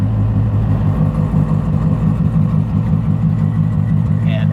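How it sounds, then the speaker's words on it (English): A Nissan S14 Silvia making around 800 horsepower idles with its exhaust valve open, giving a loud, steady, deep engine drone with a slight lumpy pulse that holds close and constant throughout. "the valve opens and the car gets louder"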